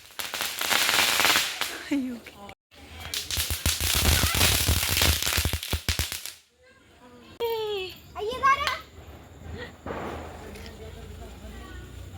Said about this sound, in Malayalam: നമ്മൾ 12 ഷോട്ട് കത്തിക്കാൻ പോകും.